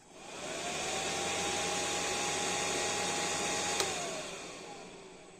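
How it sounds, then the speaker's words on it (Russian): A diesel autonomous parking heater from a car, run without its remote or control board, has its fan switched on. The fan spins up into a steady, airy whir with a faint whine that holds evenly and then winds down slightly at the end. "Вмикаємо вентилятор."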